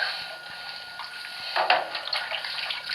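Running water pours steadily over a chicken during a bath rinse, a continuous splashing flow that swells briefly partway through, with no talking.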